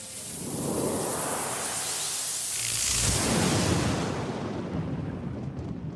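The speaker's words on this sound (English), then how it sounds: "Lightning strikes through Iris." Lightning strike sound effect from the visual novel game 9-nine-, a rising crackling whoosh that swells into a broad roaring burst around the middle and then sustains as a fading rumble, with no voices.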